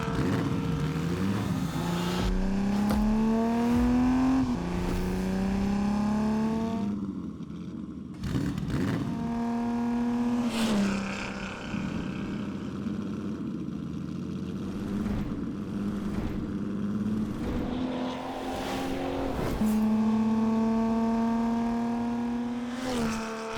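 A 1962 Ferrari 250 GTO engine revving and driving, loud and close, with repeated rising throttle sweeps through the gears, brief lifts between pulls and a sustained high-revving roar near the end.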